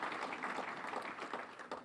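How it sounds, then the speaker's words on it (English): Banquet audience giving a round of applause, a quiet, distant-sounding patter of many hands clapping steadily with no voices on top. "And I think that deserves a round of applause."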